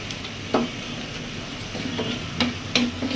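Jute leaves frying in a pan with dried fish: a continuous close sizzle with a few sharp scraping clicks of stirring spread through it, no talking.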